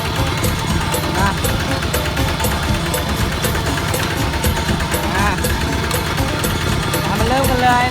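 A farm tractor engine idles in a steady, unbroken rumble with a regular ticking beat, while someone talks over it close by.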